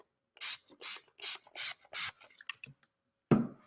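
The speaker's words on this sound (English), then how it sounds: "I am going to spray down my watercolors." Five evenly spaced bursts of spray misting water onto a gouache watercolor palette, close and fairly loud, each a short hiss, followed by a few smaller scrapes and a final louder knock.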